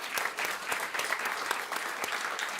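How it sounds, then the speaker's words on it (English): Steady applause from an audience at a Climate Week NYC panel on regenerative food systems, dense clapping sustained evenly from start to finish with no voices. "Another round of applause, please"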